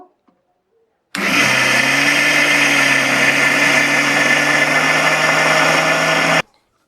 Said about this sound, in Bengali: এবার একটু জল দিয়ে দেব একদমই অল্প ব্যাস আবার মিক্সচারটা স্টার্ট করে দেব